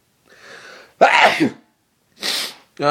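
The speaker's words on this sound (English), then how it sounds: "I'm gonna sneeze" A single person sneezes close up, with a short breathy intake, one sharp explosive burst, and then a second rougher exhale, loud and alone in a quiet room.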